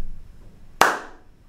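A single hand clap in a home studio room, taken a little further from the microphone, cracking out alone and trailing a longer, brighter room reverberation than a close clap would.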